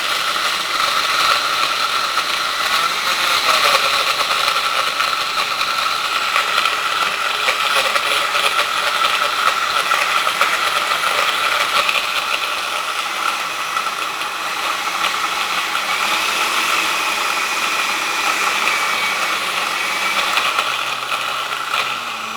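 An electric drink mixer whirs continuously while blending a cocktail with ice cream, a loud, steady mechanical grinding drone with a rattling texture that holds for the whole stretch.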